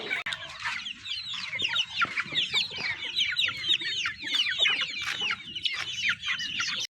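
Desi chickens cluck and chatter together at a poultry farm, a dense, continuous flock of overlapping calls, fairly close and steady with no talk.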